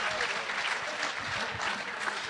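A crowd applauds steadily and densely at moderate distance, a continuous wash of clapping with faint voices mixed in.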